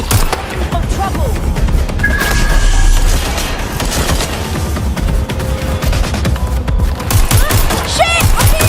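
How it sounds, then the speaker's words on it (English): Dense, nonstop gunfire from a Watch Dogs Legion firefight, with heavy overlapping shots and booms filling the whole stretch at close range. "I'm being shot at!"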